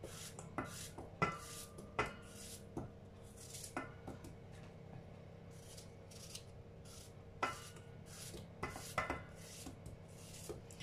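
Small chopped apple pieces for a sugar-free Swiss apple tart are stirred together in a bowl, making faint, close, irregular clinks and scrapes with soft rubbing in between, and no talking.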